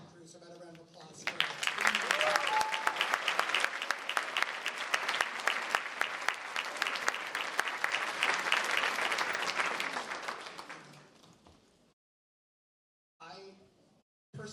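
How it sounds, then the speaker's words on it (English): Sustained applause from a school band concert audience honoring the tech crew, dense clapping running for about ten seconds before fading out, with brief talk after a pause. "So about a round of applause for"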